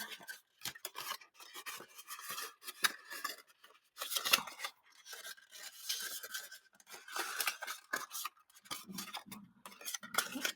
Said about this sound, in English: pinch in there by folding it flat that way and then around